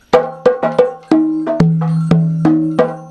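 Three batá drums playing a rhythm for Ochosi, sharp open strokes with ringing low tones in a quick, syncopated pattern, close and loud with no talking.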